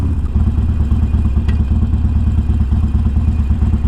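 A tuned Harley-Davidson Forty-Eight motorcycle idling up close, a loud, deep, steady lumpy throb with an even pulsing rhythm and one brief faint tick, no talking.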